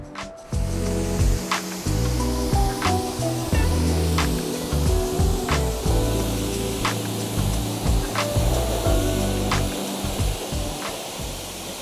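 Pressure-washer spray rinsing the tires of a new Ford Lightning truck, a loud continuous hissing blast of water up close, broken by brief pauses and shifts as the stream moves across the rubber, with no talk.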